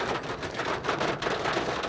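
Small hail mixed with large raindrops falls on an old truck, a dense continuous patter and hiss of many tiny impacts, loud and close, with no talking.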